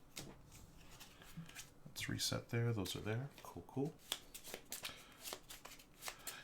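Playing cards for the Pandemic Hot Zone board game are shuffled in quick riffling bursts, close and clear, with people talking casually over and between the shuffles.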